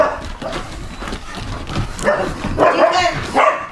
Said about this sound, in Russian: Наверное, молодой пес.